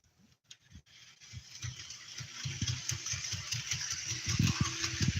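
A small HO scale model diesel locomotive, an SD40-2, hums and builds steadily, with a rapid rhythmic clatter and rattling that grows louder as it runs close by.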